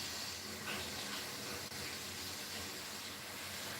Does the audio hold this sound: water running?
yes